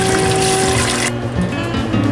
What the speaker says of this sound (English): We're going to fill a pot with some water.